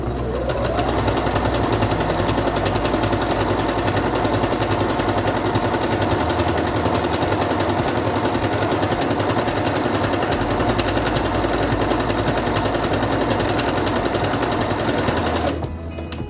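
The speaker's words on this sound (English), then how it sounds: "Put the fabric under the presser foot, lower it, and begin sewing." A Singer Quantum Stylist 9960 sewing machine stitches fabric in one steady, loud, rapid mechanical hum-and-clatter that runs unbroken for about fifteen seconds and then stops.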